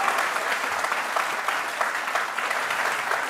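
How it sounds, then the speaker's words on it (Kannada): A studio audience at a televised courtroom-style interview show claps in sustained, dense applause that holds at an even level throughout. "ಅವರ ಕಿವಿಯಲ್ಲಿ ಇವ್ರು ಹೊಡಿತಾ ಇರೋಂಥ ಚಪ್ಪಾಳೆ ಸದ್ದು ಖಂಡಿತ ಬೀಳ್ಬೇಕು"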